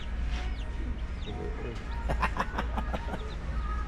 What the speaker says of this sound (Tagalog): Mayroon din palang manok rito, no?